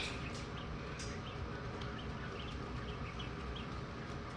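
Baby chicks in a brooder box set up in a warm, humid bathroom, their high, thin peeping chirps repeating steadily and close over a constant broadband hum.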